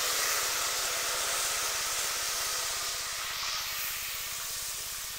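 Crab meat sizzling in hot oil with fried fenugreek seeds, a steady close hiss running unbroken from start to finish with no talk over it.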